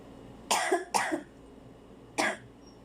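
A person with a cough coughs three times: two harsh, chesty coughs close together, then a third after a short pause, close-up in a quiet room.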